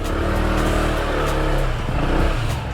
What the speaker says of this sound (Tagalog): Ipapark ko lang yung motor natin sa loob.